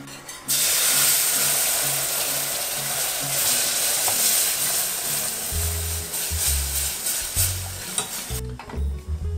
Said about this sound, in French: Et là on ajoute le lait froid sur le roux chaud.